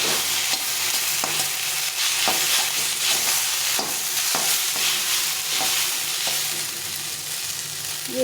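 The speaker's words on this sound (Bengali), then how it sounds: "এটাকে ভালো করে একটু ভেজে নিতে হবে" Chowmein tossed with soy sauce in a hot pan, a constant loud sizzle broken by regular scraping strokes of a spatula roughly every half second to second, close and steady, no voices.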